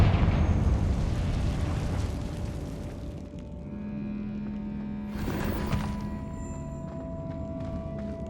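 A Confringo fire spell goes off in Hogwarts Legacy, a loud blast of rumbling low noise that fades over a few seconds into lingering crackle and ringing tones.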